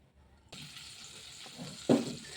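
Loitta (Bombay duck) fish pieces are dropped into hot oil in a home kitchen, a faint sizzle that starts abruptly, then a brief louder splash-crackle as more fish goes in.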